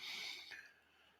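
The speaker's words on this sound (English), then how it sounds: "That's my dog snoring." A dog snoring indoors: one short, faint, breathy snort that fades within about a second, with no talking.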